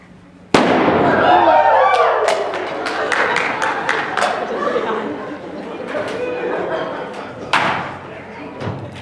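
A mixture of hydrogen and oxygen gas detonating at an outdoor skit: one sudden loud bang, then crackling echoes and the chatter of a crowd, with a second smaller thump near the end.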